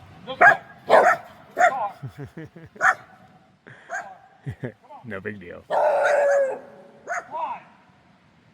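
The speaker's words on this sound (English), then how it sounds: "So you guys' dogs are totally hating on me." Several dogs on the Appalachian Trail in North Carolina bark and yip in sharp, repeated bursts close by, alternating with someone talking calmly over them.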